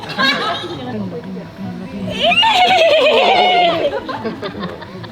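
Horse gives a loud, close whinny that rises and wavers in the middle, among people chatting nearby at an anniversary event.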